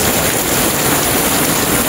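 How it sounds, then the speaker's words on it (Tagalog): Very heavy rain pours down steadily as a dense, continuous roar with no break, close and loud, nothing else standing out. "Napakalakas ang ulan mga kawaray."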